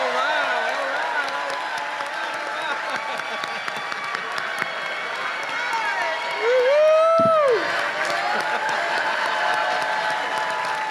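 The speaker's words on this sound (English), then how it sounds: "please give this man a round of applause" An audience greets Spike Lee with applause and cheering, heard as a moderate, distant wash of clapping and voices beneath a sustained musical tone, with a brief louder swell near the middle.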